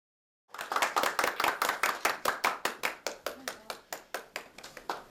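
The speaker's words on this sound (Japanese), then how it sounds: "拍手の中姿を見せた" A small group claps in unison as a female gymnast arrives for a courtesy visit to a city mayor, sharp rhythmic beats starting abruptly then gradually slowing and thinning out, close and clear with no talk.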